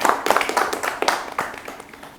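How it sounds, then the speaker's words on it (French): An audience claps for a participant at a business challenge event, a brief burst of scattered hand claps that fades out within about two seconds. "Applaudissez alors pour elle."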